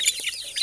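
Fancy chicken chicks on a farm peeping in quick high chirps, a few overlapping calls close by, brief and fairly clear.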